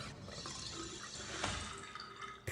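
Water runs from a drinking fountain in the video game Riven, a steady close trickling stream with small splashes and drips throughout, heard alone without voices.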